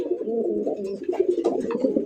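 Fancy pigeons cooing inside their loft or cage, a steady overlapping run of low, throaty coos from several birds at close range, continuous throughout without any talking.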